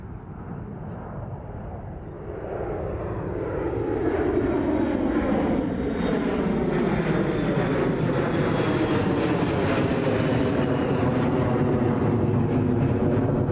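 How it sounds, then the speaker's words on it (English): An Air Canada Airbus A220 jet at Toronto Pearson airport builds from a distant whine into a loud, sustained engine roar that holds steady as the plane passes nearby. "This is Airbus 220 Air Canada going to Edmonton."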